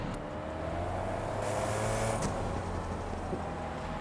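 The Koenigsegg CC850 engine in the TDUSC racing game drones steadily in a lower gear with a rising whine, a brief shift-like surge of noise partway through, continuous and fairly loud.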